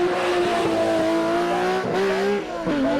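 BMW M1 ProCar race car engine howling at high revs, a loud, close, strongly tonal note that holds steady, then dips and climbs again with quick shifts.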